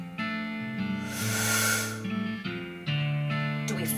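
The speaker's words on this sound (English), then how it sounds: "You hear the sound of several goblins snoring in this tent." Several goblins in a video game snore in low, rumbling, overlapping snores, a steady, raspy drone with breathy hissing swells between them, close and fairly loud.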